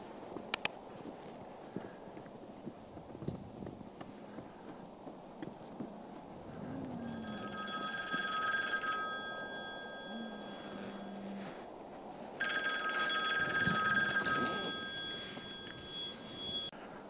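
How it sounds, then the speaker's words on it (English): A telephone rings in two bursts of repeated electronic trilling, separated by a pause, heard indoors against a quiet background with faint scattered knocks and low murmurs. "I had a phone call I had to take care of"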